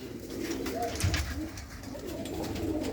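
Pigeons coo softly in a village loft in Punjab, low rolling calls under a steady hiss of background noise.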